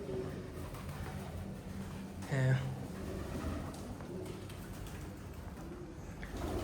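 Pigeons coo softly in an old dining area at Neemrana Fort Palace, one low burbling call rising briefly over faint room noise while a voice speaks quietly nearby.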